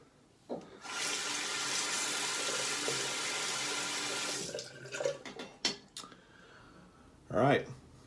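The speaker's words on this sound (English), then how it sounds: "I'm going to rinse the root off the old mug here" Tap water runs steadily over an old mug for several seconds during a rinse, then stops. Clinks of the mug against a sink and a few short knocks follow, ending with a brief voiced sound.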